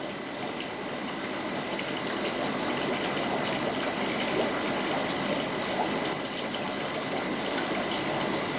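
Water rushes steadily through an aquarium gravel vacuum siphon tube during fish tank cleaning, a continuous close gushing flow with a faint tonal whine and no talk.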